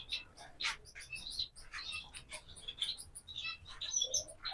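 Golden finches in an aviary give quick, high, bright chirps and twitters in scattered bursts, fairly faint and close, with soft murmuring in the background.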